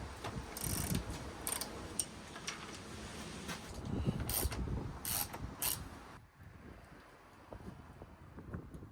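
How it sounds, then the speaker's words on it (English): A ratchet fitted with a size 8 Allen bit works on bolts at the tail of a Honda CBR650R during a tail tidy install, giving quick, close bursts of clicking over light wind noise, then going quieter. "a ratchet with a size 8 bit on the end"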